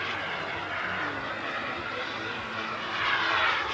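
A two-metre model Gripen JAS 39C jet whooshes steadily overhead at a distance, a smooth airy roar that swells slightly toward the end.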